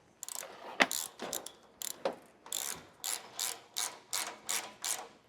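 Socket ratchet tightening exhaust bolts on a car, giving bursts of quick clicking strokes in a steady rhythm, close and fairly quiet.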